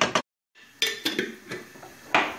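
Metal pot lid knocked and settled onto a pot of onions sautéing in olive oil, a few sharp close clinks and clatters after a brief silence, with faint cooking noise underneath.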